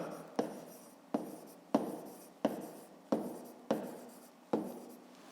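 A pen writes a math solution by hand, seven sharp strokes spaced roughly evenly, each a quick tap followed by a scratchy fade, close and otherwise quiet.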